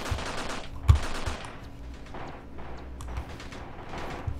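Soviet soldiers lying prone and firing in Graviteam Tactics during the Afghanistan invasion: a steady crackle of distant rifle and machine-gun fire rattles on continuously, with one sharper, heavier shot standing out early.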